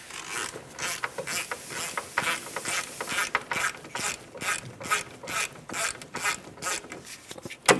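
A hand ratchet clicks in rapid, uneven bursts, close up, as a 14mm mounting bolt is backed out of the rear wheel hub assembly on a Jeep Patriot, with no voices present.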